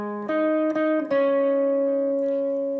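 Lead guitar line from a song (IBC version) played on the 3rd string: three clean plucked notes in quick succession, the last ringing out and sustaining clearly, with no voice over it.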